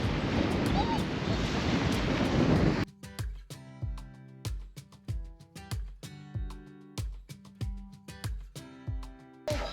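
Outdoor wind in Portland, Maine roars as dense, loud broadband rushing for about three seconds, then cuts off abruptly as rhythmic tonal pulses take over.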